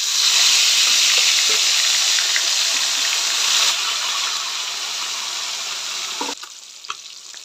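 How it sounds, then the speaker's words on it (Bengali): Japanese puti fish frying in hot oil in a kadai, a loud steady sizzle that softens gradually, with a few sharp crackles and pops near the end. "তেলটা গরম হয়ে গেছে, এবারে মাছগুলো দিয়ে দেব"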